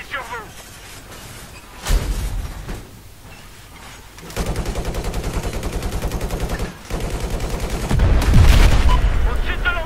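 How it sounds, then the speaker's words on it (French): Hostile machine gun fire in the first-person shooter Battlefield 4, heard as loud, dense automatic bursts that come in several long stretches, broken by short gaps and heavy impacts, with other battle sounds around them. "une mitrailleuse hostile!"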